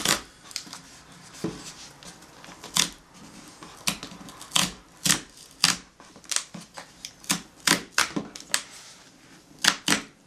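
A packaging zipper strip tears in a series of sharp ripping snaps, irregular bursts close to the mic with brief pauses between.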